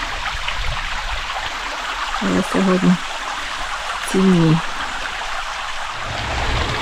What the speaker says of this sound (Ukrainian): Оцей тобто струмочок, звідки я прийшла звідти від великого водоспаду, і він переходить в такий ще маленький водоспад.